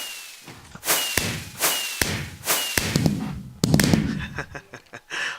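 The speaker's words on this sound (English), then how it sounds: "I have a couple last fireworks to fire down the middle." Fireworks launching in a video game during a holiday special, with a series of sharp cracking bursts at regular intervals, each followed by crackle and hiss, ending in a denser cluster of pops and whistles.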